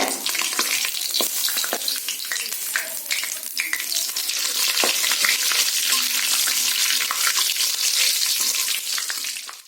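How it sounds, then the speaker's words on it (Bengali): Bay leaf, dried chilli and cumin seeds sizzle steadily in hot mustard oil as a tempering, with a dense, continuous crackle and scattered pops that run for the full stretch without talk. "তেজপাতা, শুকনো লঙ্কা আর সাদা জিরে এটা ফোড়নে দিয়ে দিলাম"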